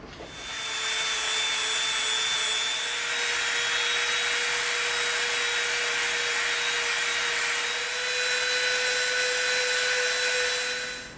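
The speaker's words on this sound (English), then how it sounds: "we're gonna soften the edge with our Dremel" A Dremel rotary tool whines steadily as it softens the edge of an EVA foam knife blade, a loud, high, constant buzz that starts abruptly, holds for about ten seconds and cuts off, with no talking.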